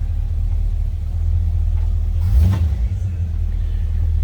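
A 1954 Chevrolet 3100 pickup street rod idles with a low, steady rumble, then briefly revs and swells near the middle before settling back to a smooth idle.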